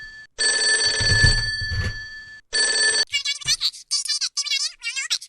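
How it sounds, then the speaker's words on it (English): A telephone bell rings in two long bursts, then a voice chatters briefly afterward. "Oh, the phone's ringing."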